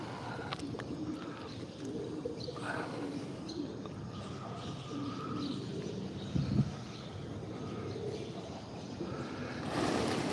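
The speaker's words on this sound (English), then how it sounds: "Look at all them pigeons and bridge chickens up there." Soft pigeon cooing from under a bridge drifts through a steady outdoor rumble of traffic or water, faint and continuous, with a few brief chirps.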